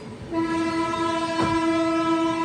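An LTT–BSB superfast express train rushes past with a loud, sustained horn blast, steady rail rumble and a brief swell of clatter midway through.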